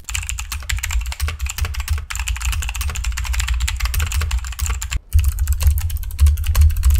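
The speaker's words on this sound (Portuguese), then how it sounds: "olha só como é que é o barulho desse cara digitando" Rapid, continuous clicky typing on a Sharkoon PureWriter low-profile mechanical keyboard with blue switches, close and loud, with sharp key clacks and a brief pause near the end.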